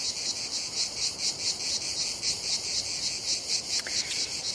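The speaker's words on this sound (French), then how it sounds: "Guive, les cigales." Cicadas chirping in a dense, continuous pulsing drone, loud and steady throughout, with no voices.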